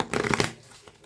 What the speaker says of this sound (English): I'm going to shuffle these like Libby does, so that these can get nice and mixed into the deck.